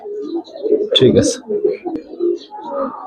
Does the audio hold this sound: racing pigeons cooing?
yes